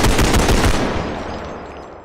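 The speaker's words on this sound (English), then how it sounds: "Is the gunfire a bit too loud?" Automatic rifle fire in the realistic shooter game BodyCam, a loud close rapid burst of shots that stops after about a second and leaves a long rumbling echo fading out.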